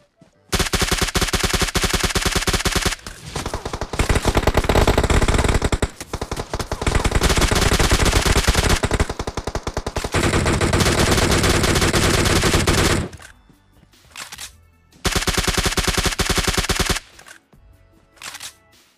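Rapid bursts of automatic gunfire from a PUBG Mobile fight, loud and dense, coming in long sustained strings broken by short pauses, with a few quieter gaps between volleys.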